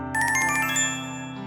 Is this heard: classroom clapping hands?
no